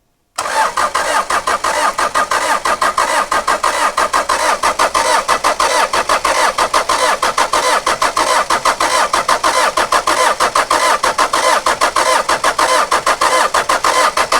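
A pickup truck engine cranks over without fuel, its starter churning in a steady, rapid rhythmic chug that stays loud and close for the whole stretch without catching.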